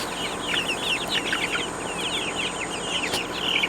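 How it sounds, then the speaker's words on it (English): Chickens cluck steadily at close range while pecking at tomatoes, a continuous busy chorus of short calls with no talking. "Yeah, chickens."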